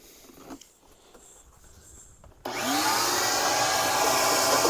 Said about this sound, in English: Use a good shop vac here to do it.